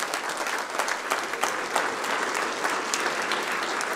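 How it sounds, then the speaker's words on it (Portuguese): A church congregation claps together in steady, dense applause that carries evenly for several seconds, with no voices rising above it. "Vamos aplaudir ao Senhor."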